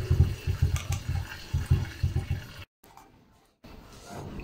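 Water gushes into malt being mashed for whisky, a rough, churning flow heard close up for a few seconds before stopping abruptly, then resuming more faintly.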